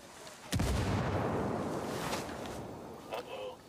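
A frag grenade explodes in Ghost Recon Wildlands, a sudden loud boom followed by a long rumbling decay, with brief voice near the end.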